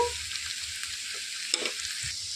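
Onions and green chillies frying in a pan for a tamarind-leaf onion curry, a steady close sizzle with brief stirring scrapes, with no voices.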